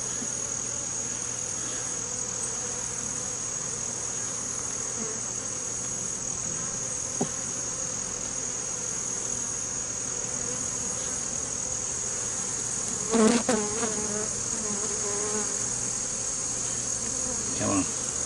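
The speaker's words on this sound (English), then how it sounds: "A lot of bees on this frame too." A steady, dense buzzing of many honey bees at an opened hive during an inspection, close and continuous, with a few brief louder bumps and knocks.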